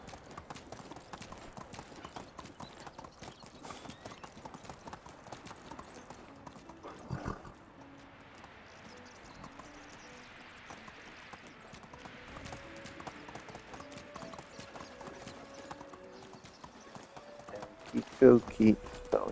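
Rhythmic clip-clop of a ridden horse's hooves in the medieval game Medieval Dynasty, steady and continuous over rough rocky ground, with a pause midway and a louder burst near the end; someone talks over it.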